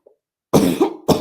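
A person coughs twice up close, a harsh rasping burst followed by a shorter one after a brief silence.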